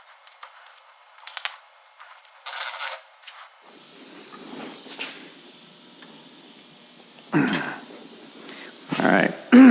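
A flat file rasping along the edge of a weld on a clamped steel arm, heard as several separate bursts of scraping strokes with quieter handling noise between them.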